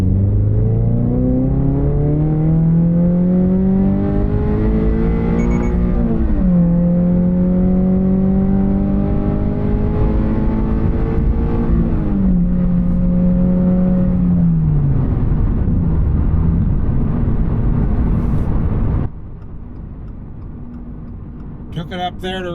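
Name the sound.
GR86/BRZ car revving to redline while driving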